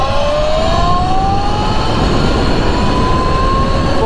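A Sur Ron electric dirt bike accelerates at full throttle, its motor whine climbing steadily in pitch over a constant loud rush of wind and road noise, with no voices.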